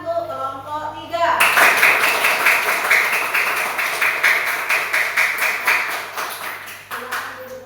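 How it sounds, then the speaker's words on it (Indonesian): A room of students claps for a classroom group after a presentation, bursting in suddenly and keeping a quick, rhythmic patter before stopping, with a teacher's voice heard before and after. "Beri tepuk tangan untuk kelompok 3."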